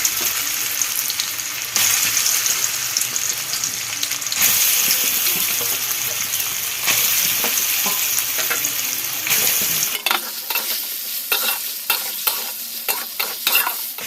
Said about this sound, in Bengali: এই তেলের মধ্যে আমি ভেজে নেব।